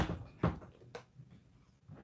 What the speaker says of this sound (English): Quinn, could you close my door for me, please?